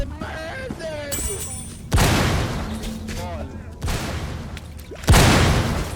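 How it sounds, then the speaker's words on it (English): Fireball spells cast in the Roblox game Mage Arena, heard as three loud bursting whooshes at roughly two-second intervals, each broad and booming like a blast, with game sounds and a voice between them. "Fireball! Fireball ไม่โดนเลย"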